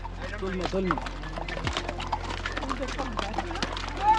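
Horses carrying riders along a trail in Baisaran valley, Kashmir, with scattered hoof clops under close talking voices and a low continuous hum.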